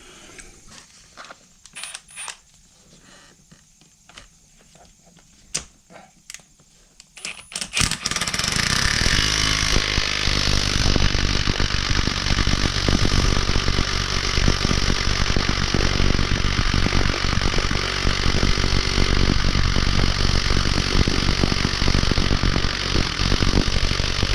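Quiet clicking and tool handling give way to a loud, sustained impact-tool-style mechanical rattle while a puller loosens the Pitman arm on a Sonoma S10 pickup, continuing steadily up close for over fifteen seconds.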